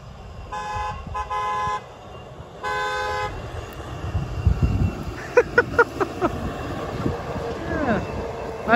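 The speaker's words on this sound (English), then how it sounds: "Nice little horn salute." A freight train's horn sounds in two long chords, then a GE-led eastbound train passes at Suffolk on the main line alongside track work, with wheels and rail clatter rising to sharp bangs and squeals close by.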